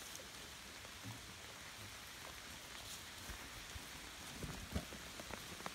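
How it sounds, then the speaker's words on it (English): Steady rain patters outdoors, a soft continuous hiss with scattered drops tapping nearby surfaces, moderately quiet throughout. "Oh, it's starting to rain."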